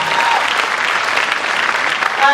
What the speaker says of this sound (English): A round of applause for you guys, please.